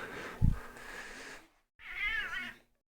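A cat gives a loud, drawn-out meow close by after a short stretch of rustling and a thump, then falls silent.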